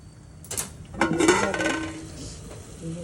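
Metal tongs clink and scrape against a pot while a soft steamed tomato is lifted out for a Kolhapur-style whole masoor curry, giving a few close, bright metallic taps followed by a lingering ring.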